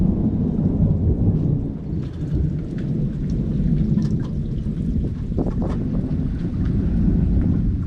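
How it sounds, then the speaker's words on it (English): Rumbling thunder rolls through a steady downpour of rain in a lightning storm, a continuous loud wash of rain with deep booming swells from the storm. "Just listen to the thunder."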